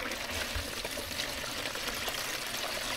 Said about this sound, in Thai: เทน้ำลงไปใต้กระถางนะคะให้เขาดูดขึ้นมาเองนะคะ